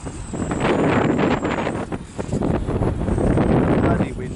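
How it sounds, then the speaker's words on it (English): Strong gusting wind buffets the microphone in rumbling waves, loud and close, rising and falling throughout. "It's quite windy today."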